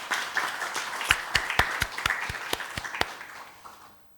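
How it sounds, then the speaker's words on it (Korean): Scattered claps from a small group at a presidential senior secretaries' meeting welcome Krafton chairman Jang Byung-gyu: about a dozen crisp, evenly spaced hand claps that thin out and stop after roughly three seconds. "박수로 맞아 주시기 바랍니다."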